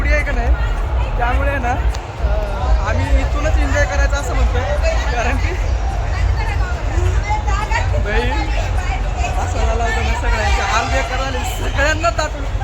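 Dense crowd hubbub inside a packed metro station during a Ganpati immersion procession in Pune, a steady wash of overlapping voices and chatter with individual talkers close by throughout.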